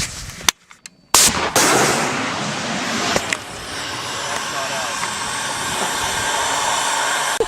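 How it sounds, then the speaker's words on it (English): Combat in Afghanistan: a sharp blast and hiss of mortar fire breaks out abruptly after a brief silence, followed by a long, loud rushing roar that slowly fades. A few louder bangs cut through. "Hey, mortars are going too."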